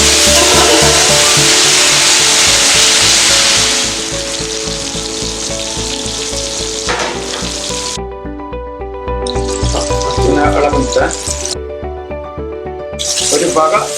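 Mushrooms fry in hot oil, a loud, close, steady sizzle and crackle that starts dense, then eases into bursts of spitting, with a voice talking over it.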